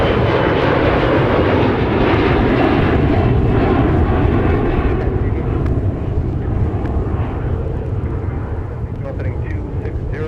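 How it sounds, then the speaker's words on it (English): A SkyWest Airlines Delta Connection regional jet departs, its engines roaring loud and close with a broad, steady rumble that slowly eases as it climbs away, with talking over it. "That was SkyWest Airlines operating the Delta connection off to Columbus, Ohio."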